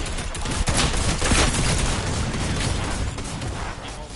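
Gunfire in a Fortnite World Cup match, a dense fusillade of overlapping shots and bursts, loud and continuous throughout, with no clear voices.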